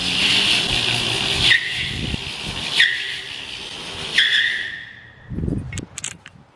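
A 2021 Tao Gemini electric motorbike does a rear-wheel burnout, its tire squealing and skidding in three loud, sustained bursts with hissing in between, followed by quieter rustling at the end.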